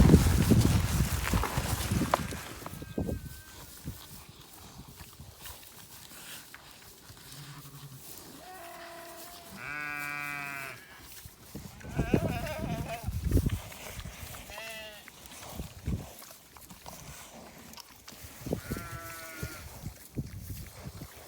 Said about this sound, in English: So I'm just over here in the lambing pen. We've got the ewes over here.